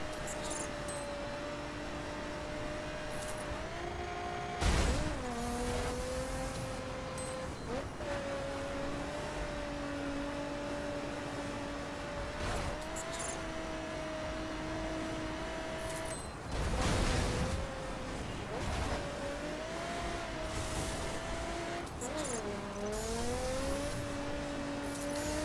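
Racing-game car from The Crew driving on a dirt track, a steady engine drone with gear-shift dips and brief bursts of tire and gravel noise, continuous and close throughout.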